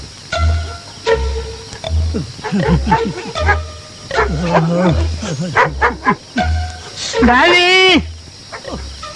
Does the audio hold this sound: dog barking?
yes